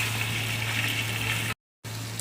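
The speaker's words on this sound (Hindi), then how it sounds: "ये देखिए, हमारा गोश्त फ्राई हो रहा है और लहसुन अदरक भी हमारा देखिए भून रहा है साथ साथ।" Meat fries with garlic and ginger in a pot, giving a steady close sizzling hiss that cuts out briefly before resuming.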